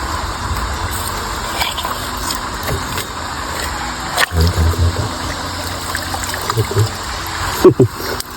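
Strong stream water flowing beside a creek bank, a continuous rushing, gushing wash with occasional louder splashes, close and steady throughout.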